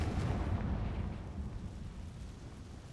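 A Confringo fire spell blast in Hogwarts Legacy lands as a deep, booming burst that rolls into a low rumble and fades slowly over a few seconds.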